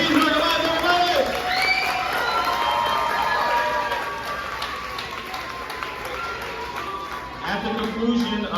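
A crowd at an end-of-year ceremony claps and cheers, with whoops and shouts over dense applause. A host's voice carries over it, and the noise fades a little in the middle before rising again.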